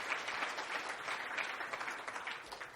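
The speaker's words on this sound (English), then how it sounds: "So let's give you a round of applause." Audience at a political gathering giving a round of applause, a fairly faint, even patter of many clapping hands heard from a distance and holding steady throughout.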